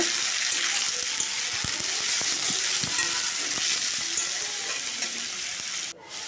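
Chopped radish and potato sautéing in a pan, a continuous bright sizzle with scattered tapping and scraping of a spatula, close and steady, briefly dipping near the end, without voices.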